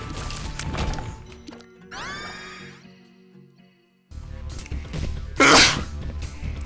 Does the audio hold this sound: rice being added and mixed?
no